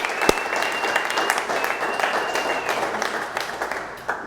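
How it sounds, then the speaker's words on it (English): An audience at an all-team company meeting bursts into applause, a dense field of clapping with a few cheers and scattered sharp claps, fairly close, fading slightly at the end. "Teddy, round of applause."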